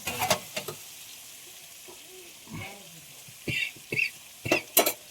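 Chili masala frying in a pan for village-style Telangana chicken curry, with intermittent sizzles and stirring scrapes between quieter stretches.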